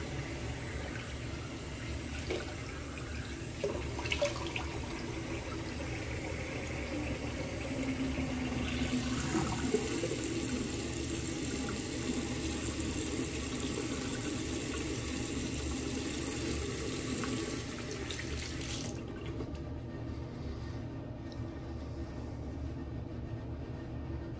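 Cold water runs steadily from a tap into a sink on a chilly day before a straight razor shave, a continuous broadband wash that carries on at moderate level for most of the span and then stops abruptly near the end.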